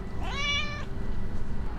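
A cat found at a west-coast Bali site gives one clear, rising-then-falling meow, close to the mic, over a steady background of low outdoor noise.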